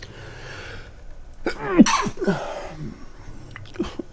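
A single sharp human sneeze bursts out near the middle, with a short intake of breath and a small follow-up exhale after it, close and loud against a quiet background.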